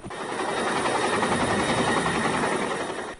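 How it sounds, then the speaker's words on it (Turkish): A rescue helicopter hovers over a capsized cargo ship lying on its side at sea, making a loud, steady, unbroken roar of rotor and engine throughout, with no talking. "Hava şartlarının normale döndüğü sabah saatlerinde bu kez helikopter devreye girdi."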